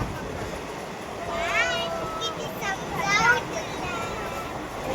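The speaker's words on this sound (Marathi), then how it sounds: "आता ट्रेन चालू आहे," A moving passenger train between Mumbai and Akkalkot gives off a continuous rumble inside the carriage, heard under people talking and children's voices nearby.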